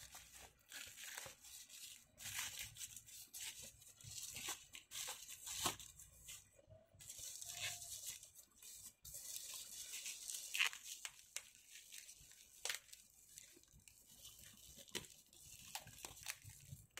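Plastic packaging around a phone case for a Realme XT is torn open and crinkled during an unboxing, with steady close rustling, tearing and crunching throughout and no talk.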